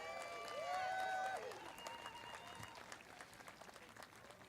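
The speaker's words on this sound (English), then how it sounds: "Can we give him a round of applause?" Audience applause at a hoop dance championship gathering, a steady wash of many clapping hands that carries through the whole stretch at moderate level, with a brief whistle-like tone sweeping over it early on.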